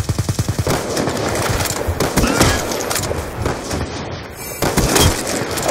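Gunfire in a video game scoring a triple headshot and then a single headshot; loud, rapid automatic bursts start with evenly spaced shots, then run into dense continuous firing with a short gap before more shots near the end.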